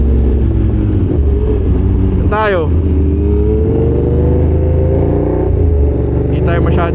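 Busy night traffic in Makati, with cars and big motorcycles rumbling steadily close by and engines revving, while people talk over the noise.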